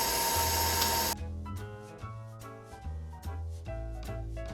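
Electric mixer beating cream cheese and sugar in a bowl, a steady motor whir with rhythmic tonal pulses from the beaters, close and continuous throughout after a brief louder start.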